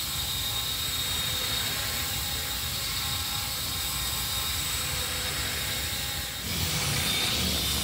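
A radio-controlled model helicopter flies nearby, its rotor and motor making a constant buzzing whir that shifts slightly in tone toward the end.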